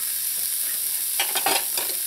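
Chayote squash and mixed vegetables being stirred and fried for chow mein, with a steady sizzle and a few louder stirring scrapes and tosses near the end, close and clear with no talking.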